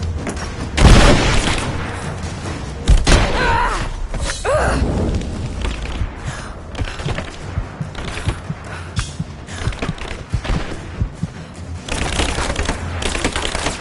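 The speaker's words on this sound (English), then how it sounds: "Throwing a grenade!" Grenade blasts and gunfire in Rise of the Tomb Raider combat: sharp loud booms near the start and around the third second, followed by a dense stretch of clattering shots, mechanical rattles and debris.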